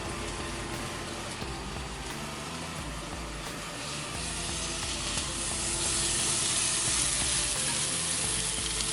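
Chicken sautéing in hot oil, sizzling and crackling steadily, a dense continuous hiss with small pops that grows slightly louder toward the end. No voices.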